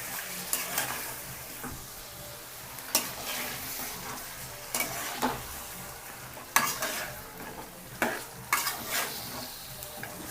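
Chicken fry sizzling in a pan while a spoon stirs it, with sharp scraping strikes at irregular intervals over a steady close hiss.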